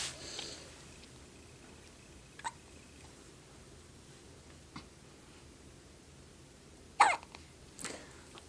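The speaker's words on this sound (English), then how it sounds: "And now he's got the hiccups." A baby hiccups several times, short, soft, isolated catches spaced a couple of seconds apart, with one sharper, louder hiccup near the end over quiet room noise.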